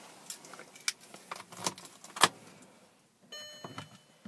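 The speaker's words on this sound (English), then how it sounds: "And just getting the car started." A key jingles and clicks in the ignition of a white manual petrol Audi S3 Quattro, with faint scattered taps before the engine catches and settles into a low, quiet hum near the end.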